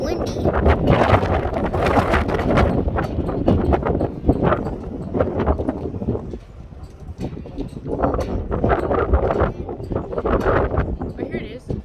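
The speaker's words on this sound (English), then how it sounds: "It's windy." Strong wind buffets the microphone on a windy day at an outdoor plane-spotting spot, rumbling and gusting continuously with uneven surges, while people talk over it.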